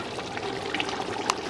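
Water pours and splashes as partly cooked rice is drained in a home kitchen, a continuous close stream with a few brighter splashes and drips.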